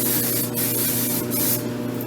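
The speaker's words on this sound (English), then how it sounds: "take your finishing spray, so it's heavier than our working spray" A heavy finishing hairspray is sprayed over styled beachy curls in one long, close, hissing burst with slight pulses, and no talking.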